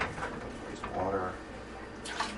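Water is poured into a pot while catfish stew cooks, giving a soft, faint splashing trickle with a brief burst near the end, heard at low level in a quiet kitchen.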